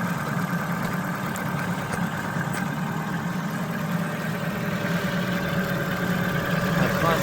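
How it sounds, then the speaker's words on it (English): A 2011 Ford Focus engine idles steadily throughout, a constant mid-low hum with a faint high whine, recorded close by with no talking. "we're gonna leave the engine running and we're gonna assess any coolant leak"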